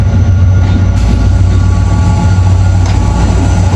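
A passenger train led by locomotive 8214 rolls past close by, loud and steady, a heavy low rumble with wheel noise and faint clatter running the whole time, with no voices.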